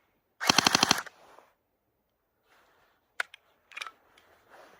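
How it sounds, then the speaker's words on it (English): An SSE-18 airsoft gun firing with a feeding problem: one quick, loud rattling burst of about eight rapid shots, then scattered faint clicks and handling noises. "Seems to be something with my gun, because this thing is having trouble feeding."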